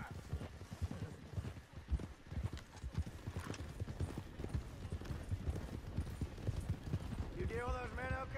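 Horses gallop in the video game Red Dead Redemption 2, a dense, steady clip-clop of many hooves close by with a whinny near the end, while voices talk over the ride.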